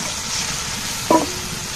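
Water poured into a hot frying pan in a village kitchen, sizzling steadily as it is stirred with a brief sharper clatter midway, close and moderately loud with no talking.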